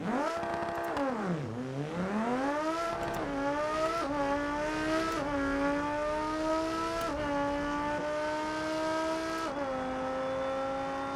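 Car engine revving, a loud sustained engine note that dips low, then climbs and holds with several quick gear-change steps, continuous and close with no talk.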